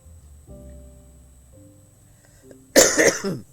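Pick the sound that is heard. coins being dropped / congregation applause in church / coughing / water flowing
coughing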